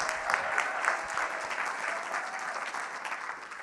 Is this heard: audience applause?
yes